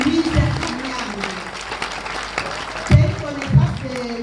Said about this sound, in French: je vous demande de pouvoir applaudir trop fort pour mon appel, Dr. Louise Agnag.